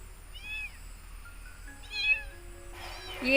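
A small kitten meows a few times, thin high-pitched cries with short pauses between them, fairly close and with no talking.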